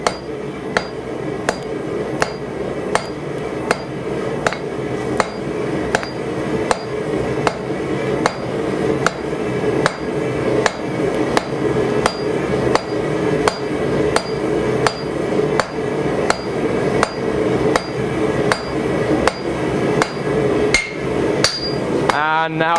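Hammer blows ring out on hot steel over an anvil while a pair of blacksmith's tongs is forged, a loud, steady rhythm of sharp strikes roughly every second with no talking.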